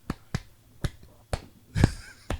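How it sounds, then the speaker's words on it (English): A group claps their hands on beats 1 and 3, producing six sharp, close claps at slightly uneven spacing over a quiet background. "You're clapping on 1 and 3."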